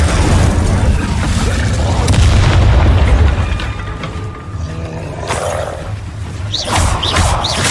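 Incendio fire spell cast in Hogwarts Legacy on PS4 Pro amid combat, a loud roaring, booming rush of flame up close with growling creature-like tones, fading to lighter clatter and whooshes before swelling again.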